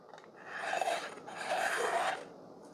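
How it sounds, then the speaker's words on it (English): Trimmer tool on a Breville Barista Express BES870XL espresso machine scraping across coffee grounds in the portafilter basket, making two close, gritty rasping strokes with no talking. "it says to use the trimmer"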